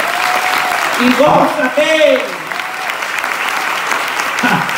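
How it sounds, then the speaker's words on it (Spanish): Applause in a church during a salvation day service, a steady wash of clapping with a voice speaking and calling out over it near the middle. "Un aplauso al Señor."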